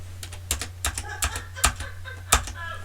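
Clicky keystrokes on a computer keyboard, a handful of sharp, irregular taps spaced over a few seconds against a low steady hum, close to the microphone.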